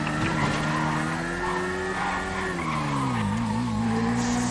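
Motorbike in a video game chase, a loud engine drone with tire squeals and skidding, the pitch dipping and rising as it rides, continuous and close.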